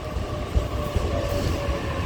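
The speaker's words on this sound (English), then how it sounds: "the train I'm going to take will go all the way to Reevesley" A Sydney train rumbles at Redfern station, a steady close mechanical roar with faint tonal whine and occasional low thumps, no voices.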